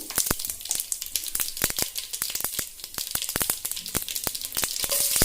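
Cumin seeds and asafoetida sizzle steadily in hot oil for a tempering, a dense crackling fry with sharp little pops scattered throughout, close and continuous, no voices.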